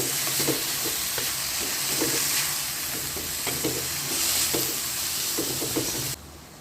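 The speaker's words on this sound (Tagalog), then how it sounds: "Now I'm going to mix in my jade mushroom, my purple cabbage, and then my bell pepper." Jade mushroom, purple cabbage and bell pepper being stir-fried in a hot pan with a splash of beer, a steady broadband sizzle with repeated scraping stir strokes, close and loud, ending abruptly.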